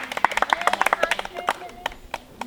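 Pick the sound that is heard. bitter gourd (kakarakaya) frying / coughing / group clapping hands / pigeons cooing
group clapping hands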